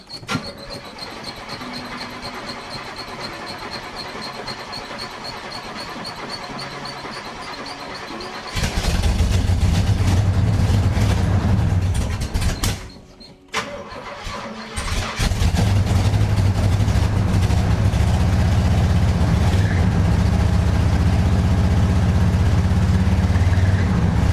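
A 1969 Camaro Z/28 engine that has sat unused for a while cranks over, catches and settles into a loud, close, rumbling idle, stumbling briefly once before running steadily.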